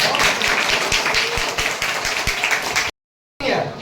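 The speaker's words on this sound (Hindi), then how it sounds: "एक बार जोरदार ताली अपने लिए बजा दो।" Students in a classroom break into quick clapping, a run of sharp claps that stops abruptly and is followed by a brief silence and a little room noise.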